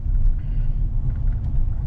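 A Chevrolet Silverado pickup driving through a snowstorm on slick roads, a steady low cabin rumble of engine and tires heard from inside, fairly loud and unbroken, with no voices.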